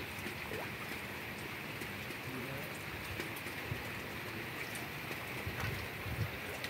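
Rain falls steadily on the water of Jatigede reservoir in the afternoon, a constant faint hiss with scattered small drops and no voices.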